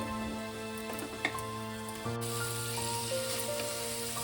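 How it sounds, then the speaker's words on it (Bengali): Spice paste frying with taro (mankochu) in a pan, a soft, steady sizzle with a faint tonal hum in the background and an occasional light clink. "এবার মশলাটাকে আমি একটু মিনিট 2-3 একটু ভালো করে কষিয়ে নেব মানকচুর সঙ্গে।"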